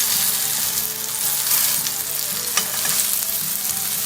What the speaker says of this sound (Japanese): ではこんがり焼き目がついたら裏表を返します